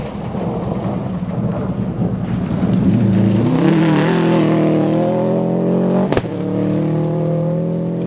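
A black Subaru rally car drives a gravel stage at the 2012 Olympus Rally, its engine note building from a distant rumble to a loud, rising roar as it nears. A sharp crack comes just after six seconds, then the engine pulls away.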